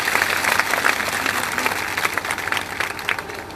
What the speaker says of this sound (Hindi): एक बार ताली बजा दीजिएगा